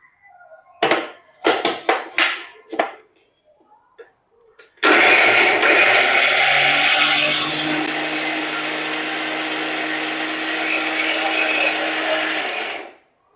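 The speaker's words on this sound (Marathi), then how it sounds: "आता पाण्याचा वापर न करता मस्त मिक्सरच्या जारमधून ह्याला फिरवून काढायचंय" An electric mixer grinder whirs loudly and steadily for about eight seconds, grinding roasted peanuts, coconut and sesame seeds without water into a medium-coarse chutney, after a few short clattering knocks as the jar is handled.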